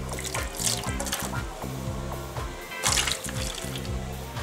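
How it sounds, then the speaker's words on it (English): Honey soy marinade pouring over chicken drumsticks in a baking dish, a steady liquid trickle with a couple of brighter splashy bursts, close and moderately loud, no talking. "I'm just gonna pour in half the mixture"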